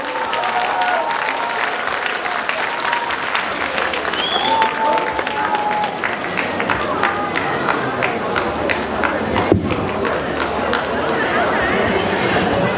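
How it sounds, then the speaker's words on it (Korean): Audience applause welcoming a ballad singer at the closing ceremony of a local cultural festival, steady dense clapping from a large outdoor crowd with scattered cheers and chatter, sustained throughout. "큰 박수로 환영해 주시기 바랍니다"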